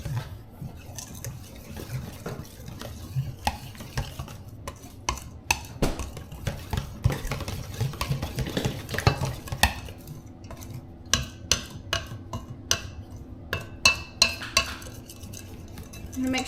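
A whisk clatters and scrapes in a bowl while pumpkin pie spice is mixed into a dessert filling, busy metallic tapping and stirring throughout, fairly quiet and steady with sharper clinks toward the end.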